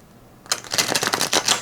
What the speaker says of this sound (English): shuffle test for the hexagonal one